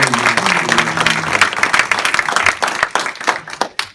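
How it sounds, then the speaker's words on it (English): Applause from an audience at a 2018 candidate forum, a dense burst of clapping that thins into scattered individual claps and fades out by the end. "I also would like us to give our moderators a wonderful round of applause."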